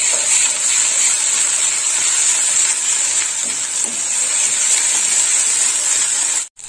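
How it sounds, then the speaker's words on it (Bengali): Ginger-garlic paste and spices fry in a pan for a fish-head curry, giving a steady, loud, even sizzle that runs unbroken and drops out abruptly near the end. "মশলাটা একটু কষে নেব।"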